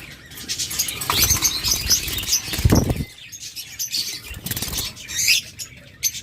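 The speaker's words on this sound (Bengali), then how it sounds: "চমৎকার এই অলিভ অপালাইন জোড়াটা" Olive opaline pet birds, a pair kept in a cage, flutter and flap their wings in several bursts of rustling, with faint chirps mixed in at close range.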